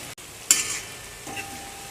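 Onion with ginger-chili paste sautéing in a pan, a soft background sizzle broken by a couple of brief stirring scrapes, fairly quiet and close.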